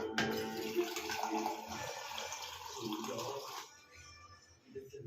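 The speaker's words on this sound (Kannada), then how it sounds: "ಇವಾಗ ಇದಕ್ಕೆ ನೀರು ಸೇರಿಸ್ಕೊಂಡು" Tamarind water is poured into a pot of avarekalu bassaru, a steady splashing pour that stops abruptly near the end, followed by quieter kitchen sounds.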